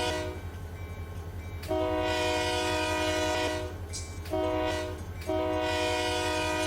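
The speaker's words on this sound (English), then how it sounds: "Honk the horn." Train horn in the Run8 Train Simulator game, sounding in three loud sustained blasts over a steady low locomotive rumble, each a bright multi-tone chord with short gaps between.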